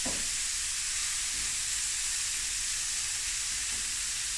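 Prawns sizzle in a hot AMC pot. A steady, close frying hiss runs the whole time, bright and even, with no voices over it.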